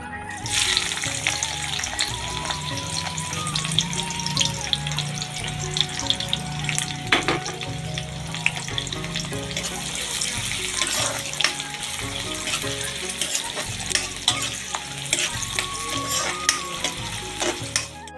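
Chopped onions and chillies fry in hot oil for an Assamese-style Maggi, a loud, continuous close sizzle with occasional stirring scrapes throughout.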